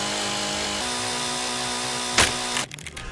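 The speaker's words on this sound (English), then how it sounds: "Get out the chainsaw, move the bucket, and get some manly work done." Chainsaw in the VR game Chop and Drop VR, a steady buzzing motor drone that ends in a sharp whoosh and then sputters down to a rougher, quieter tail.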